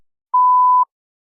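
A single clean electronic beep of about half a second marks the start of a timed test response, alone in silence.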